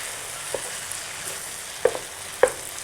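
Oil sizzles in a pan while pad thai with shrimp is cooking, a soft steady frying hiss broken by a few sharp pops and clinks.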